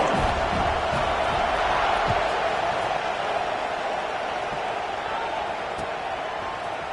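A stadium crowd buzzes steadily in College Football 26 during a Washington vs UCLA game, a dense, even roar of many voices with a commentator talking over it.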